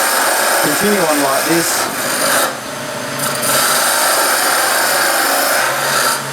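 Wood being turned on a lathe while shaping a hollow sphere, a steady loud rasping scrape of the cutting tool against the spinning wood, with a brief spoken phrase near the start.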